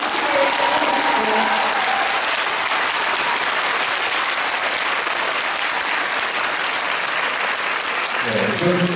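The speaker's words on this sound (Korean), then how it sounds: "박수 한 번 부탁드리겠습니다" Sustained applause from a large audience fills a concert hall at a Korean Navy anniversary concert, steady and loud throughout, with a voice faintly audible near the end.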